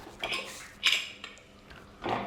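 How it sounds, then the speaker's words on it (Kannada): A pressure cooker lid is set on and closed over spiced chicken, giving a few quiet metallic clanks and clinks spaced across a couple of seconds. "ಲಿಡ್ ಕ್ಲೋಸ್ ಮಾಡೋಣ"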